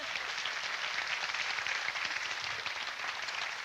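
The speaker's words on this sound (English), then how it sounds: "Give Courtney a round of applause, okay?" Studio audience applauds a contestant on a Nickelodeon game show, a steady wash of many hands clapping at moderate level for a few seconds, with no talk over it.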